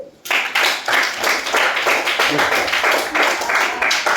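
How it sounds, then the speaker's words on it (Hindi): A group of children in a classroom clapping hands steadily and loudly, a rapid rhythmic stream of claps lasting several seconds, close by. "ताली बजा दो भले से।"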